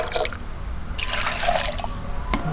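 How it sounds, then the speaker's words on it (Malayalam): Water is poured out from a rinsed mixer jar, splashing and trickling in short bursts near at hand, with no one speaking. "ജാറൊക്കെ ഒന്ന് കഴുകി ഒഴിക്കാം."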